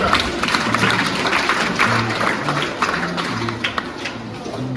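Applause at a children's Mass in a parish church: a crowd claps steadily and fairly loudly, with overlapping claps and faint voices mixed in throughout.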